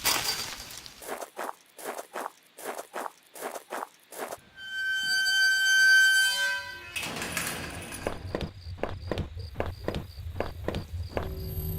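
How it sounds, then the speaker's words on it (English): Footsteps thud in a quick, steady rhythm, pause during a swelling tonal drone, then resume alongside a repeating mechanical clicking, in the video game HOME. "Oh, I hear footsteps behind me."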